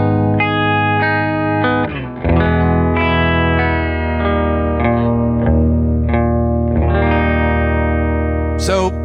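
Guitar through a Mirror House effect pedal sustains bright, rich chords whose pitch slides up from unison to a half step, with a few pick attacks and a sharp squeak near the end, steady and loud.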